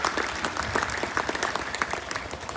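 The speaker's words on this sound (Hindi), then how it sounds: "जोरदार तालियों के साथ" Applause from the audience at a community awareness gathering, a quiet but steady run of individual claps with distinct sharp hits throughout.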